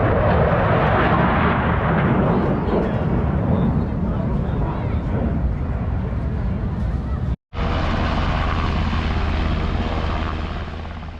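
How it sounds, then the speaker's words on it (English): Military aircraft roar loud and steady on takeoff from an adjacent runway at an air base festival, a sustained engine rumble with a brief cut before it resumes. "there will likely be planes taking off throughout the event at the adjacent runway"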